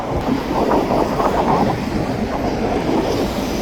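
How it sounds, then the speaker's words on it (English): A Southern Railway freight train rumbles steadily past up close, a heavy continuous roar of rolling wagons with faint rail clatter. "that's definitely the Southern Railway's other job coming through"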